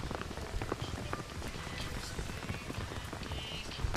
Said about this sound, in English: Oh, we're hearing lots of rain.